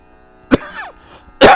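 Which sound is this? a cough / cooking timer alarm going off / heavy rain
a cough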